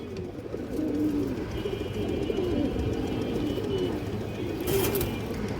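Female pigeons, a pair of colored hens, coo steadily in a low, rolling murmur that fills the space without pause, close by and continuous.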